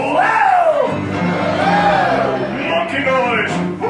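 A live sing-along crowd at a resort lounge imitates monkey noises, a loud burst of whooping, hooting voices rising and falling together for a few seconds, close and dense.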